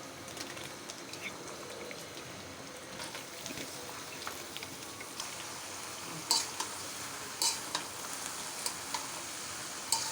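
Onions frying in a pan, a faint steady sizzle with light scraping and tapping as they are stirred, several small clinks near the end.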